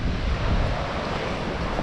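Slick Rock Creek, a cold mountain creek wide enough to resemble a river, rushes in a steady broadband wash, mixed with wind buffeting on the microphone, with no talking.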